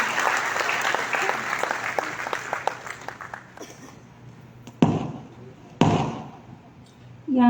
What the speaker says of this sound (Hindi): मैं चाहूँगा जोरदार तालियों से स्वागत है सावित्री जी का